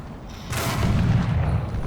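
A single heavy tank cannon blast in War Thunder booms out, then a deep rumbling roar lingers for over a second.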